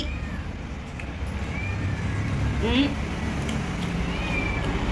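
A cat gives a short, rising meow over steady background noise and low murmuring.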